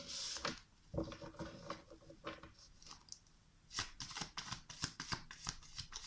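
A tarot deck is cut and shuffled by hand. Soft card flicks and riffles come in uneven bursts, quiet and close, with denser snapping toward the end.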